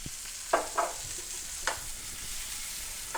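Sliced leek fries in olive oil and butter with a soft continuous sizzle, punctuated by a few brief scrapes of a utensil in the pan.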